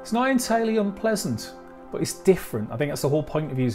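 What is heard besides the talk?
No distinct noise like a dog, phone or traffic.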